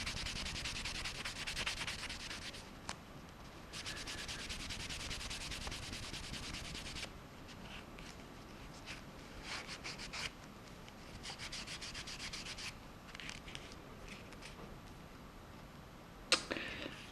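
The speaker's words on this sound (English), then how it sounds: "And then we're into buffing it to finish." A leather pen sleeve is buffed by hand, producing soft, quiet rubbing strokes in rhythmic bursts with pauses between, close up, with a few sharp taps near the end.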